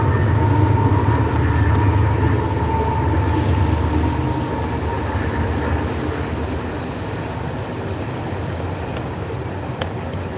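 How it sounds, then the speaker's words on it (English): A train rolls past close by, a loud steady rumble and rail roar that stays dense for the whole stretch and eases only slightly toward the end, with no voices over it. "Sorry about that train that just went by,"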